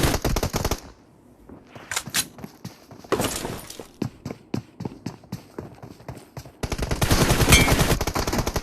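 Rapid gunfire bursts crack through a team deathmatch video game match, with sharp repeated shots in clusters, a brief lull, then dense sustained firing toward the end.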